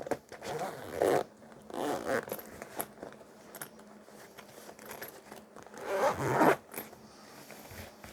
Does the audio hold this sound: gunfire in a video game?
no